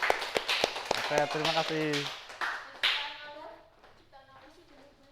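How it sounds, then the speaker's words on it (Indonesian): Classroom students clapping for a classmate during a microteaching lesson: a few sharp, scattered claps from a small group, while a teacher and children speak over and after them. "Beri tepuk tangan untuk Mas Iqbal."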